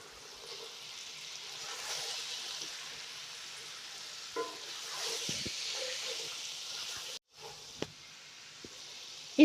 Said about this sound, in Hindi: डालेंगे हाफ कप मटर और इनको थोड़ा सा फ्राई करेंगे 2-3 मिनट।